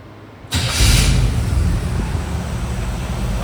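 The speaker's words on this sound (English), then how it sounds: "Fire her up, see if she steers." The engine of a 1970 GMC C2500 truck catches after a brief crank and settles into a loud, steady idle close by, a rough continuous rumble with no one talking.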